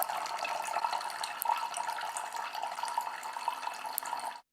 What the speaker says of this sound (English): Water falls from these two containers up here, down through these two cans, into these cans.